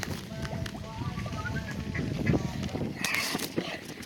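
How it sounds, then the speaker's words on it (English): A duck being fed at a campsite gives short honking quacks over a busy outdoor background, with faint voices and rustling mixed in. "We're feeding the duck."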